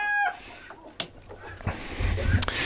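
Chickens in a farm pen in December, with a rooster's crow cut short at the start followed by scattered clucks and rustling, nearby and uneven.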